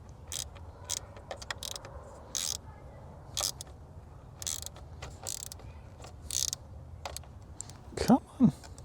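A ratcheting wrench snugs down the battery terminal nuts on a Nissan Frontier during a battery upgrade, making short, close bursts of metallic clicking with pauses between them and a louder creaking burst near the end.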